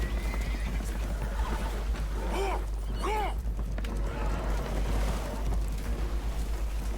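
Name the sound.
spooked horses neighing in Red Dead Redemption 2 video game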